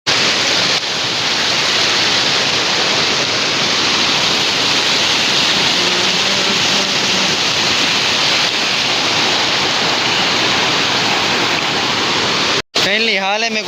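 Rushing floodwater roars as a dense, steady, loud wash of noise for the whole clip, cut off abruptly near the end.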